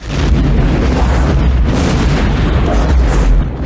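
Torpedo explosion from the submarine film Crimson Tide, a loud sustained deep rumbling blast with heavy low-end boom filling the whole stretch, no voices over it.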